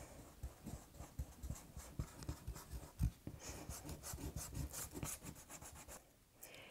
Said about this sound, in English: you can always use an eraser. The eraser sort of rolls those fibers out.